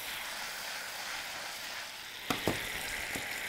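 Leftover marinade for chicken yassa sizzles steadily in a hot pan and is stirred, with a few sharp utensil clinks and scrapes near the end over the constant frying hiss.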